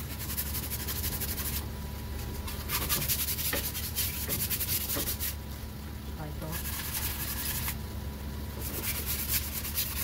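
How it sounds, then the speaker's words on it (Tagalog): Sandpaper scrubs a rusty front brake disc on a Nissan Tiida during a brake pad replacement, a continuous harsh rubbing with repeated back-and-forth strokes, close and fairly loud, with speech mixed in. "lihain natin konti yung brake disc para lang matanggal yung mga ano-ano"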